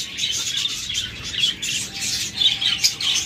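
Caged pet birds such as budgerigars, cockatiels, lovebirds and diamond doves squawk and chirp together, a busy, fairly loud chorus of overlapping shrill calls with repeated bursts.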